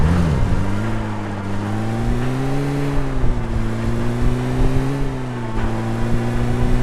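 A vehicle engine drives in PUBG Mobile, giving a steady, loud droning hum. Its pitch shifts slightly as it rolls along, continuous for nearly seven seconds with no speech.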